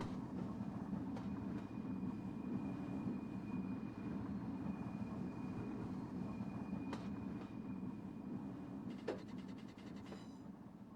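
Small battery locomotive shunting in Train Simulator, a steady low mechanical hum and rumble with a faint high whine, broken by a few brief clanks near the end.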